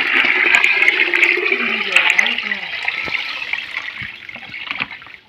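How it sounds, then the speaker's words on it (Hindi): Water gushing into a bucket from an open pipe, a loud steady rushing pour with splashing that gradually tapers and softens. "तो गाइस पानी ऐसी बाल्टी में डालना है"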